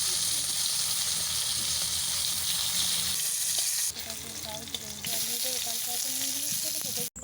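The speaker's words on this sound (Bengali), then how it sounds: "এরপর পটল ভেজে নেব।" Pieces of pointed gourd (potol) fry in mustard oil in a wok with a loud, constant close-up sizzle. A few stirring clatters come midway, and a sharp clank lands near the end.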